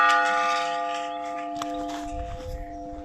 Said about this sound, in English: I love the way that bell just sounds and sounds and sounds